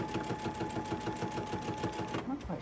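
A sewing machine runs fast while binding a quilt, giving a rapid rhythmic clatter with an odd, rough mechanical noise in it. It stops abruptly near the end.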